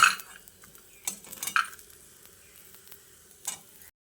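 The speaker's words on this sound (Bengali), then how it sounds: "এবার আমি এই ডালের বড়িগুলোকে গরম তেলে অনবরত নেড়ে চেড়ে ভেজে তুলে নিচ্ছি" Dried lentil badis fry in hot mustard oil with a soft sizzle as a spatula clinks and scrapes the pan in a few bursts, brief stirs separated by quieter frying, close by and without speech.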